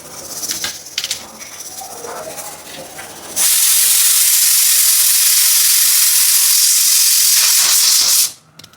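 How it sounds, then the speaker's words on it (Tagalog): A loud, steady hiss of steam bursting from a pressure cooker, cutting in abruptly after quieter kitchen noises and stopping sharply. "yung tunog na naririnig yun is pressure cooker"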